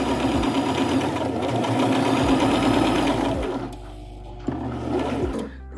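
A sewing machine stitches a fabric scrunchie in a fast, steady whirring run. It slows and stops, then starts again in short bursts, close and clear.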